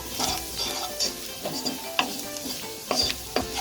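Spices with a quarter teaspoon of fennel seed and a pinch of cumin powder being stirred in a frying pan on low flame, with repeated scraping strokes over a steady sizzle.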